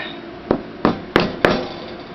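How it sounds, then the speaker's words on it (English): Copper tubing driven with a hammer into the thong hole of a handmade knife handle, four sharp, loud, close strikes spaced about a third of a second apart, with nothing else heard. "Now we'll get the copper tubing for the thong hole, get some epoxy on that, and I will drive that."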